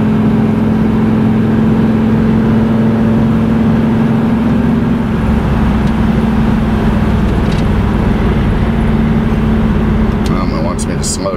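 A 1985 Pontiac Trans Am drives along with a steady, droning engine hum and road noise throughout, while a person talks over it.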